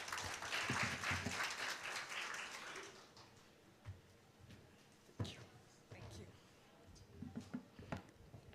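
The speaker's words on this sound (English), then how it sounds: "Can we give her a round of applause, please?" Applause from an audience fills the first few seconds, then fades as a person begins speaking in a room.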